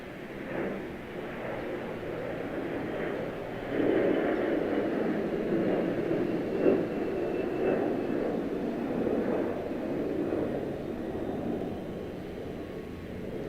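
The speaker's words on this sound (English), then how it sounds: "Punta Cana on the move. 3319 American Airlines." American Airlines airliner taxiing at Charlotte-Douglas International, a steady, moderately distant engine rumble and whine that holds fairly even throughout.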